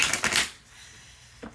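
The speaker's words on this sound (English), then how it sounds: "I promise you I'll be shuffling these decks like crazy." A deck of tarot cards riffle-shuffled up close, a quick burst of crisp flapping card noise followed by a brief pause and a short final snap.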